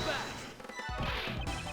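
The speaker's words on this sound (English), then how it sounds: "the moment I heard the mirror breaking" A mirror shatters in the video game Ace Attorney Investigations, a sharp crash with glassy ringing that tails off quickly, heard close and loud over a continuous game background.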